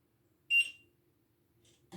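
A fire alarm panel signals a general fault with a sounder status problem: one sharp, high electronic beep stands out in a quiet room, followed later by a couple of faint, brief chirps.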